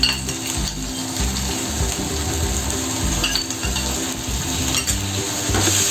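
Spicy masala paste for dhaba-style egg curry fries in oil with a spoon of yogurt added, a loud, continuous close sizzle broken by repeated scraping and stirring in the pan, no voices.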